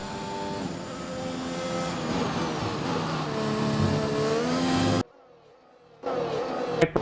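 Formula 1 race car engines from a Singapore race in an F1 video game, a Ferrari among them, whine steadily at high pitch and shift through the revs, then cut to near silence before returning briefly.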